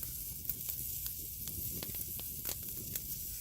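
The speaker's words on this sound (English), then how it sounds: "So we got the steaks on here on the rocks. I don't know if you guys can hear them sizzling away or not." Steaks sizzle on hot rocks over a campfire in the Canadian wilderness, a quiet steady crackle with scattered sharp pops, heard alone without talk.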